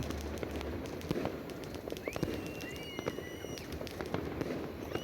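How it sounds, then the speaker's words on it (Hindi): Scattered crackling pops and bangs of New Year firecrackers going off at varying distances in Holland, with whistling streaks rising over a busy outdoor background. "बहुत ज़्यादा पटाखे फूट रहे थे"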